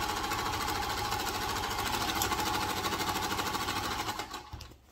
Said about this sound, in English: Just fold it and just sew it straight.